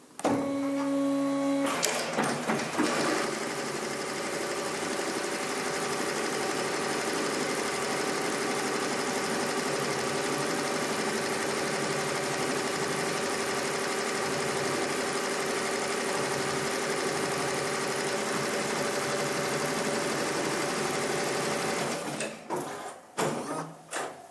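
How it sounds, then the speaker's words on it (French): An industrial textile machine starts up and runs with a loud, steady mechanical hum and whirring drone, a constant close roar that carries on for about twenty seconds before winding down. "Je vais pouvoir lancer la machine."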